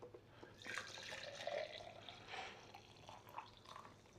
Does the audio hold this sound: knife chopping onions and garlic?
no